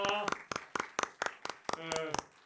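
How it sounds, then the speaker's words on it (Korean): At a church youth worship service, a small group claps a welcome in a steady, evenly spaced rhythm of sharp, close claps, with voices speaking over parts of it. "우리 환영의 박수 한번 올립시다."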